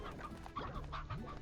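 Chickens cluck in the Slime Rancher video game, quiet short clucks and chirps repeating in an uneven pattern for a moment with no talking.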